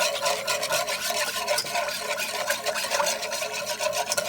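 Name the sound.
whisk stirring broth into gravy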